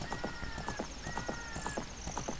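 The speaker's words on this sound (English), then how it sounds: "Isn't Epona great to be able to ride a horse throughout the land?" Horse hooves clip-clopping at a steady gallop rhythm as Epona is ridden in The Legend of Zelda: Ocarina of Time, with game music tones running over the hoofbeats.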